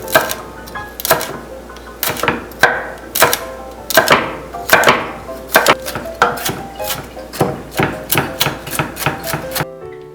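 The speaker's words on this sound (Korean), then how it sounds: "고추는 반으로 갈라주고 송송 썰어 다져주세요" Knife chopping halved chili peppers on a cutting board, a steady run of sharp, fairly loud strikes about two per second with no talking.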